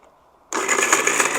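An electric mixer grinder grinds tomato rasam ingredients, starting abruptly after a brief quiet moment and running as a loud, steady whirring buzz through the rest of the short clip.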